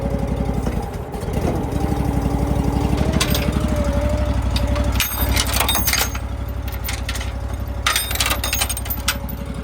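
A Ditch Witch 36-inch walk-behind trencher with a fuel-injected Honda engine runs steadily, a loud close rumbling engine drone with rattling and clanking over it, throttled up slightly, no talk.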